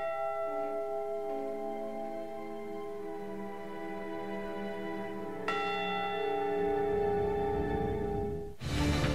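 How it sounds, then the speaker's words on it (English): Ship's bell of the Edmund Fitzgerald tolling, two deep resonant strikes whose long ringing overtones hang and slowly decay, loud and alone without talk. "it actually swung and tolled, and everybody around for about a mile could hear it"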